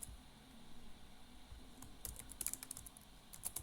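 Keystrokes on a computer keyboard while filling in an Upwork freelancer profile, a quiet, irregular patter of clicks that grows busier in the second half, with no talking.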